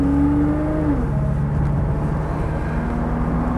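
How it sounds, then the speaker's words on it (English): A 1960s Mercedes 280SE 3.5 W108 with a V8 engine and automatic gearbox pulls away, its engine note dropping as it shifts, with a faint torque-converter whine, then settling into a steady, close, heavy drone. "Great performance from the V8."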